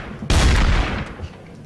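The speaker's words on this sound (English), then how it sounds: "You died from the turret" A turret machine gun in the Garry's Mod TTT video game fires in one loud, close burst that rings out and fades over about a second, with no talk.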